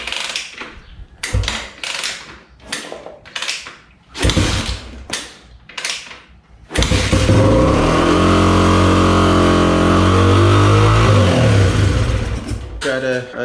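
A 1992 Honda XR250L motorcycle takes several sharp kick-start attempts, then its engine catches and runs loud and steady nearby, the idle wavering slightly.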